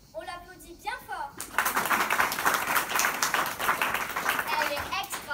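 Applause from the audience at a year-end school show by a CM2 class, a sustained burst of clapping after brief speech over background chatter, fairly close and steady.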